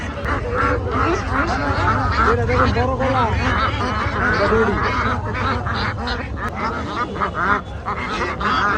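A crowd of native ducks at a livestock market quacks continuously and loudly, their calls overlapping into a dense, nasal chorus, with people talking underneath.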